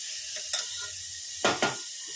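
Dalia fries in a pan and is stirred, giving a hiss of sizzle with a few scraping and clattering strokes of a spoon against the pan, heard close and brief with no speech.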